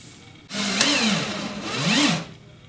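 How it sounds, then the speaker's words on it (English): A power drill drives a wood hanger screw, running up slowly in two rising-and-falling whirring bursts under about two seconds of motor whine, close and fairly loud. "run your drill up slowly"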